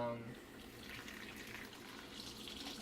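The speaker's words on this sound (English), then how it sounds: "after you slice them, you want to put them in a bowl and to rinse out the starch" Tap water runs steadily over sliced potatoes in a bowl, a soft continuous rinsing gush at low level with faint talk underneath.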